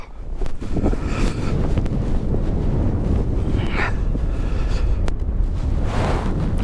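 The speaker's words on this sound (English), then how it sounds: "That wind is absolutely bitter." Bitter cold Arctic wind at about -11°C buffets the microphone in a steady, loud roar, with gusty swells and rumbling low-end buffeting throughout, no voices.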